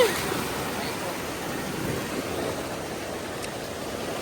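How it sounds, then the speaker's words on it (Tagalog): Ocean waves wash in close to shore where crabs are being caught, a soft, steady surf hiss that holds evenly throughout with no clear talk. "Ay, may alon."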